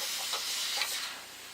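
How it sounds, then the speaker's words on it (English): Steam hisses steadily from a pressure cooker used to fry chicken, a continuous broadband rush close to the listener with small surges, easing off slightly near the end. "I still see quite a bit of steam coming out."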